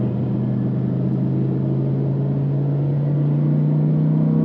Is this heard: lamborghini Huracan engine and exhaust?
yes